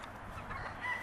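Game hens in a winterized chicken pen, a flock of two hens and a rooster, make soft fowl calls over a low rumbling background, close and fairly steady through the short stretch.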